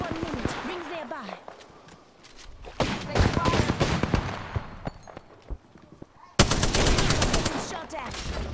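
Rapid automatic gunfire rattles in bursts during a video game firefight, loud and close, with sharp shots and a sudden sustained volley near the end, while a voice talks over it.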